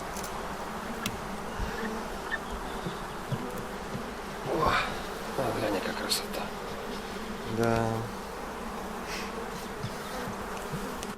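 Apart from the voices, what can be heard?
honey bees buzzing at a traditional apiary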